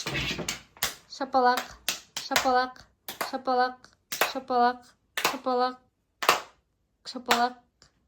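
Sharp hand claps alternate with short chanted words in a quick, regular rhythm, repeating about eight times like a clapping game.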